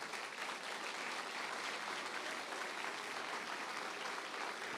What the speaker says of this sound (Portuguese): dá ao Senhor a sua melhor salva de palmas